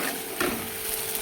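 A spice paste with turmeric and salt fries lightly in a pan, giving a close, steady sizzle with a soft stirring scrape.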